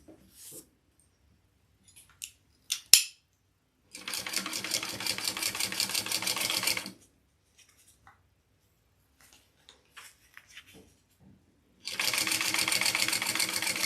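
A sewing machine stitches waterproof canvas for a backpack in two sustained runs of rapid, even needle clatter, separated by quiet gaps with a few small handling clicks and a sharp knock.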